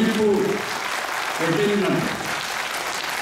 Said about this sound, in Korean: 이 대목에서 박수 한번 쳐드립니다